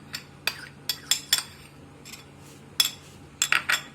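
A spoon stirs sauce ingredients such as garlic and honey in a bowl, giving a series of quiet, irregular metallic clinks and taps against the dish, alone and close by.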